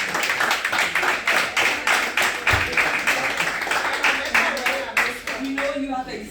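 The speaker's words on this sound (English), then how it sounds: "a big hand clap to our mentors." At a graduation ceremony for a Liberian field epidemiology cohort, an audience claps for the mentors in distinct, fairly rhythmic hand claps, close and loud, tapering as a voice begins speaking near the end.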